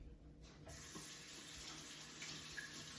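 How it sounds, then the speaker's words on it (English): Tap water running into a kitchen sink as zucchini is rinsed, a steady close hiss and splash that starts after a short pause and flows on alone. "Give it a little bath in the sink."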